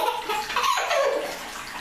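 Bathtub water runs steadily for a small child's bath at home, a close, continuous rushing stream that fills the whole moment with a faint voice briefly underneath.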